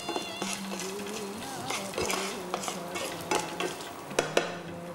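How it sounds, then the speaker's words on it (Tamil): Onions sauté in a pan with a low sizzle while a spoon scrapes and stirs against the metal in irregular strokes, ending with a couple of sharper clinks. "வெங்காயத்தை நல்லா வதக்கிக்கணும், நல்லா அந்த பச்சை வாசனை போகிற வரைக்கும் வதக்கிக்கலாம்."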